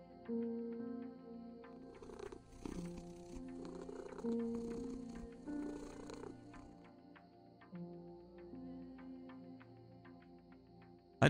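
A cat purrs in a video game, a low rumbling purr running close and steady for several seconds under soft game music, with no talk.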